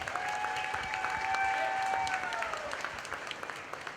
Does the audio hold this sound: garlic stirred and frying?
no